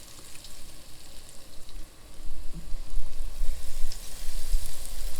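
A battered Twinkie deep-frying in hot oil gives a steady, rising bubbling sizzle that swells and stays loud and close after the first couple of seconds.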